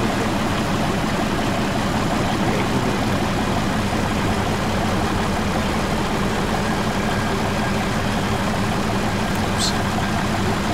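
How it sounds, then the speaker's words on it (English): A truck engine idles steadily in the military shooter Arma 3, a constant low diesel-like rumble and chug that holds at one level throughout, near and unbroken, with no voices over it. "Somebody shut the damn engine off, please."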